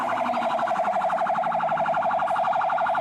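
Toy fire engine siren wailing in a steady, rapid up-and-down warble, loud and close, running continuously without pause and with no voices.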